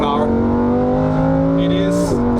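A rear-wheel-drive Lamborghini Huracan EVO on a Black Forest drive gives a steady, loud engine drone with rich harmonics. Its pitch holds, then drops sharply with a gear change near the end.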